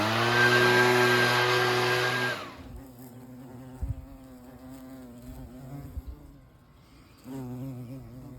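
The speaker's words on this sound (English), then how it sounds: "A lot of carpenter bees." Loud, dense insect buzzing from carpenter bees fills the first couple of seconds close by, then drops to a faint background hum with scattered soft knocks and a brief louder swell near the end.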